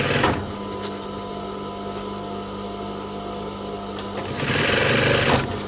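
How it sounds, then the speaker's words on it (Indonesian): A sewing machine runs steadily while stitching a shirt collar, a continuous loud mechanical whir that swells and speeds up briefly toward the end. "Kemudian kita mulai menjahit dari bagian yang sudah kita jahit pertama."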